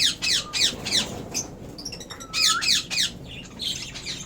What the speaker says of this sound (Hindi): ये ऑस्ट्रेलियन तोते हैं